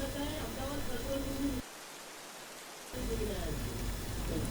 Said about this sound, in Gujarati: અમદાવાદ શહેરમાં પણ વહેલી સવારથી જ વરસાદી માહોલ જામ્યો છે